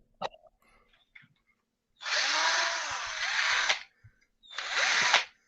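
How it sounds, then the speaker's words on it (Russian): Cordless electric screwdriver spinning in two bursts, a longer whirring run of about two seconds and then a shorter one, close and loud, with faint handling clicks before them. "Так это шуруповерт."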